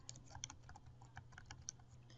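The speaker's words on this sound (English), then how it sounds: "go ahead and type in your username" Rapid, irregular keystrokes on a computer keyboard as a username is typed, light clicks close by and fairly quiet over a low steady hum, with no talking.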